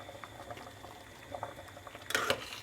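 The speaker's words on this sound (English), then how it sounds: "As you can see, it's boiling away nicely." A pot of pasta e fagioli, the Italian bean soup, bubbles quietly on the stove, soft irregular pops and blips throughout, with a louder burst of bubbling near the end.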